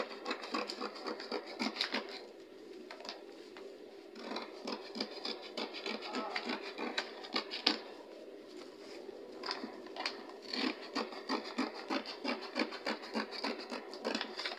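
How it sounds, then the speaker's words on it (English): Scissors cutting through fabric for a sewing project, a steady run of quick, close snipping and rubbing strokes with short pauses between passes, fairly quiet and with no voices. "So I will start cutting it from this side."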